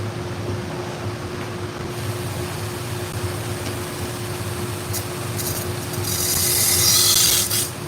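BBQ knife blades are drawn across a clamped sharpener to refine the edge, giving a continuous close rasping scrape over a faint steady hum, with a brighter, louder burst of grinding toward the end.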